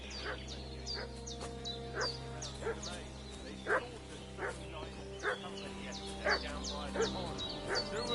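A dog barks repeatedly at a steady pace in Kingdom Come Deliverance 2, somewhat distant over a low ambient hum, with occasional yips and faint birdsong.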